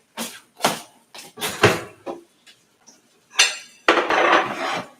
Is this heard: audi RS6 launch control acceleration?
no